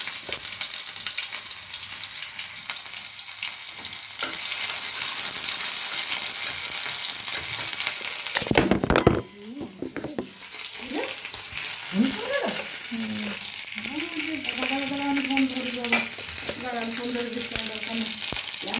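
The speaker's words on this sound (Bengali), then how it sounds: "তো এবার আমার আদাটা ভাজা হয়ে গেছে" Ginger paste sizzles loudly in hot oil for a fried rice dish, a constant crackling hiss with a sharp burst midway; a voice speaks over the frying in the second half.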